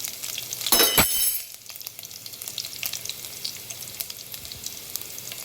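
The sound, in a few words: garlic cloves frying in oil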